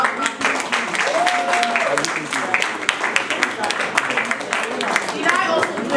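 Conference audience applause, a dense, steady wash of many hands clapping at once, sustained evenly throughout with a voice faintly audible underneath.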